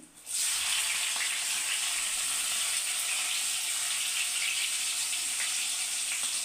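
Fenugreek seeds, cumin and onions hit hot oil in a pan with a sudden hiss, then settle into a steady, bright, even sizzle that carries on alone without pause.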